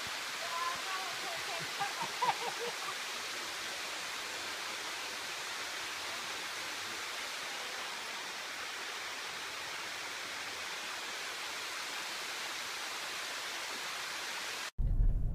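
A shallow stream flows in a steady, even rush of water that continues unbroken for the whole stretch, with faint human sounds early on, before it cuts off abruptly near the end.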